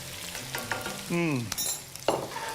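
Tomato hits a hot pan beside browning meat, giving a steady close sizzle with scraping stir strokes and a brief squeaky slide midway, no voices.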